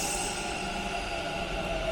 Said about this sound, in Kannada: ಖಾಲಿ ಮೆಟ್ರೋ, ಬಿಕಾಸ್ ಫಸ್ಟ್ ಸ್ಟೇಷನ್ ಇದೆ